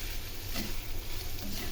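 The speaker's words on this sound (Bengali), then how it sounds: "এখানে আলুটা এখন ভেজে নিচ্ছি।" Potatoes frying in a pan give a steady close sizzle with a brief stirring scrape partway through, alone without voices.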